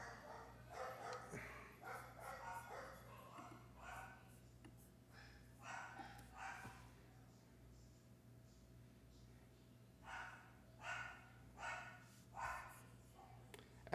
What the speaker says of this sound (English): The dogs are still barking in the background.